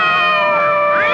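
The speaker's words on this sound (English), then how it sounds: "How many cats do you have here, miss?" A cat meows in a radio drama, one drawn-out, loud, close wail that bends in pitch and ends in a rising upturn.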